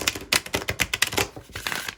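Oracle deck cards being shuffled by hand, a quick run of crisp riffling snaps and flicks in an uneven rhythm, close and fairly soft, with no voices.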